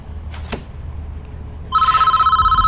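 A telephone in the prison-building game Prison Architect starts ringing with a bright, warbling electronic bell that pulses rapidly and steadily after a short quiet stretch, loud and alone.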